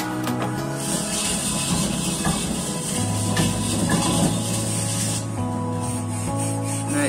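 An electric polishing machine works over old bell-metal and brass utensils, a steady loud rubbing whir with rasping friction noise that holds for the full stretch, shifting slightly in pitch partway through.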